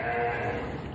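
A sheep in a pen attached to a slaughterhouse gives one short, nasal, wavering bleat, close and alone.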